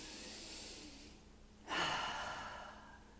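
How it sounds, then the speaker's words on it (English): A calm breath is audible up close during a stress-relief relaxation exercise. A quieter stretch gives way to a fuller, rushing exhale that swells and slowly fades. "you take a deep breath"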